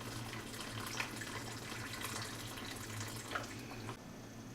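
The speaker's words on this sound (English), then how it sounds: "Pour some preheated water in there so it doesn't interrupt the cooking process." Preheated water pours into a pot holding a beef pot roast with carrots and potatoes, a faint, steady splashing trickle that runs unbroken for several seconds.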